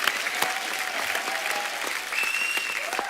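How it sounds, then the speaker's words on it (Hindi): Studio audience applause on a Hindi TV comedy show, The Kapil Sharma Show: dense, steady clapping fills the whole stretch at an even level, with faint tonal sounds threaded through it. "और शिखर पाजी के लिए भी जोरदार तालियां"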